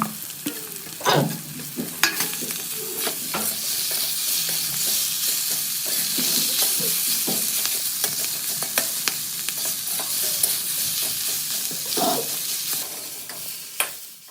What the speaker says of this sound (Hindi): सब्ज़ी को छौंक देते हैं